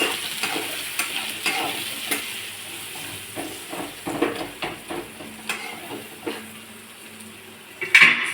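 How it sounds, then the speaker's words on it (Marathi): Cluster beans with red chili powder are stirred in a frying pan, a spatula scraping and tapping against the metal in irregular strokes over a steady sizzle, ending in a sharp clink. "थोडं लाल तिखट, सारं मिक्स करून घेऊया."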